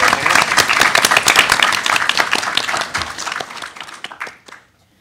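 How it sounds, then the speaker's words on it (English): A quick round of audience applause for panelists at a comics festival talk, lively close clapping that tapers off into a few last claps and silence. "Quick round of applause for all of our wonderful panelists."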